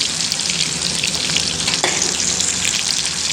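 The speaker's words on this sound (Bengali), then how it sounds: "দেখছেন যেমন মিট বলসগুলো আওয়াজ করছে তেলে।" Meatballs frying in oil, a steady bright sizzle and crackle throughout, close and moderately loud with no talk.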